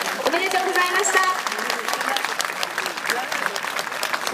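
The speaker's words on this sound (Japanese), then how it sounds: "今一度大きな拍手をお送りください。" A stadium crowd at a high school athletics championship applauds a women's heptathlon junior record, sustained clapping and cheering from a large crowd, with an announcer's voice over the top.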